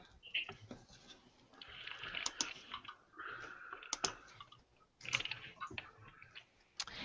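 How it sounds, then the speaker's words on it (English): Soft, quick keyboard typing in bursts of clicks, quiet and close, with brief pauses between runs of keystrokes. "I'm typing now."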